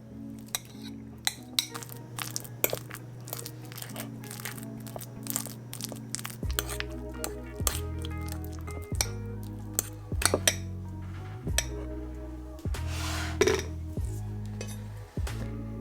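Ripe bananas being mashed in a bowl, with repeated clinks and scrapes of a utensil against the dish and soft squashing thuds in an uneven rhythm, close and fairly loud, with no talking.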